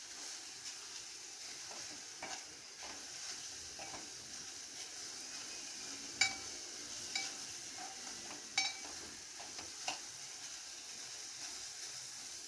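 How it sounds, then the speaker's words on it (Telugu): Grated carrot fries in a pan for carrot kheer, giving a soft steady sizzle and hiss with occasional light scrapes and taps as it is stirred, quiet and close, with no one speaking. "వేగుతుంది, కొంచెం కలర్ చేంజ్ అయ్యింది."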